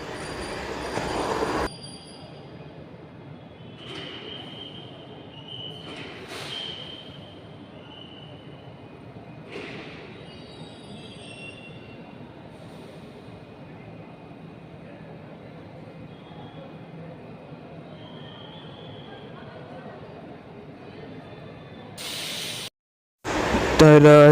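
A Navi Mumbai metro train rolls into a station with a long steady rumble, its wheels squealing at intervals as it slows, followed by a brief burst of louder noise at the very end.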